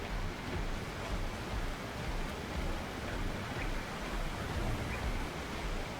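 A waterfall in the video game ARK gives a steady, dense rushing roar that holds even and unbroken throughout, with no talk over it.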